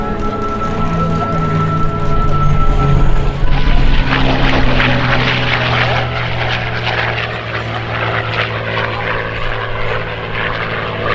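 A vintage propeller warbird, a P-51 Mustang or F4U Corsair, roars past at an air show at MacDill in Tampa, its piston engine drone loud and steady and swelling then fading as it passes, with crowd noise underneath.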